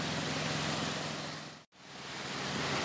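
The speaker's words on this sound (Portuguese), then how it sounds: "ouvindo o som do mar" Sea waves washing onto the shore at Garopaba in the early morning, a steady broad roar of surf with a brief abrupt dropout midway, alone without voices.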